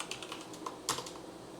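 Keystrokes on a computer keyboard as a short command is entered in a Linux Mint terminal, a quick run of light clicks with one sharper keypress near the end, close and fairly quiet.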